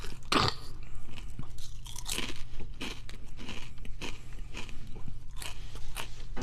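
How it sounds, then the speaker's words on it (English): Crispy corn-oil-fried chips are crunched and chewed close up, giving a steady run of loud, brittle crunches in an irregular rhythm with no talking. "So crunchy it feels like your teeth are gonna break."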